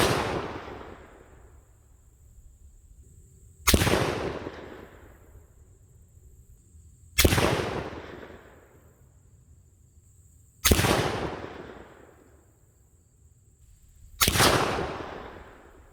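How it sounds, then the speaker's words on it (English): Five loud gunshots from a 1907 Lee Enfield SHTLE No1* rifle firing 180-grain soft point rounds outdoors, each sharp crack spaced about three and a half seconds apart with a long decaying tail. "we'll shoot our 5 rounds through the chronograph, and then we'll check our speeds"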